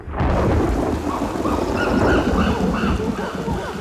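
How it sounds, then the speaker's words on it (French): Steady rain pours down with rolling thunder rumbling throughout, a dense continuous wash of storm noise heard close and fairly loud, with no voices. "Lorsque la pluie commence à tomber"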